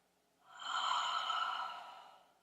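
A single slow, airy breath during a vinyasa yoga practice, rising from quiet into a soft sustained exhale and fading away, close and gentle with no talking.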